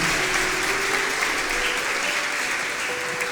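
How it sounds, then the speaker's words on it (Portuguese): A church congregation claps at a worship service, a steady, even wash of applause with a faint sustained tone running underneath. "Você pode aplaudir aquele que é digno de toda adoração."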